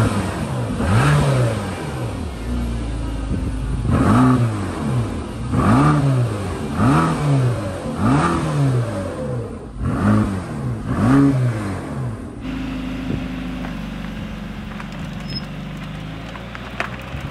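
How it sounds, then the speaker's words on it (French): A Mercedes-AMG GT Black Series Edition 1 accelerates on the road, its engine rising through about eight repeated rev sweeps with gear changes before settling into a steady lower drone, heard from inside the car with no talking. "Alors nous voilà dans l'AMG GT Black Series Edition 1 pour ses premiers tours de roue"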